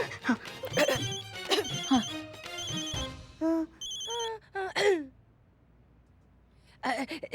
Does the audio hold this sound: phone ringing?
yes